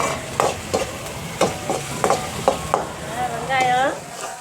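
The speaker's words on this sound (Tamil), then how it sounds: "இப்போ வெங்காயத்தை போட்டு" Onions are stirred in a pan of hot oil with cinnamon, garlic and chillies for a goat blood curry, giving a series of close scraping spatula strokes over a soft sizzle.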